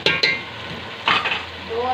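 Vegetables fry and sizzle in a pan while being stirred, with a couple of sharp scraping strokes at the start and another around the middle over a steady soft sizzle, close by.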